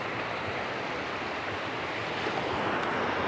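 Sea waves wash steadily against the shore at Liwa in San Felipe, Zambales, a continuous broadband surf with some wind noise, with no talk.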